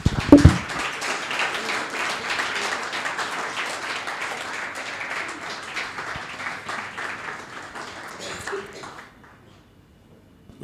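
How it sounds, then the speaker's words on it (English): An audience at a QPR football club fans' forum applauds a named attendee, the clapping starting sharply, holding steady for several seconds, then thinning and fading out toward the end. "Round of applause for Moreno."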